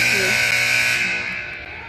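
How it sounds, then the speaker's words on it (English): A loud, sustained electronic buzzer at a women's college basketball game between Alpena CC and Macomb CC rings steadily for about two seconds, then slowly fades, with faint arena noise beneath. "that buzzer wakes you up, Mike."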